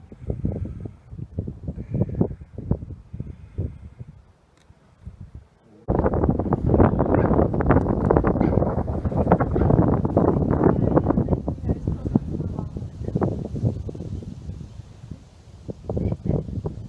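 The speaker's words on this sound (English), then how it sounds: "Wind's starting to kick up a little bit" Wind gusting across the summit of an extinct volcano overlooking Ballarat, a steady loud rushing buffeting the microphone, quieter at first, dropping out briefly, then surging strong and continuous.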